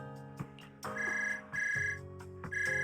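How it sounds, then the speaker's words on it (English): Phone ringing in Zenless Zone Zero, a quiet electronic ringtone in repeated short tonal bursts over soft game music, with no voices. "Suddenly a phone rings."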